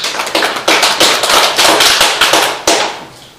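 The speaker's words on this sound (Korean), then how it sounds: "박수로 환영해 주시겠습니다" Audience at an academic paper session clapping to welcome a discussant, a loose burst of overlapping claps that stays fairly loud and close before thinning out, with no talking.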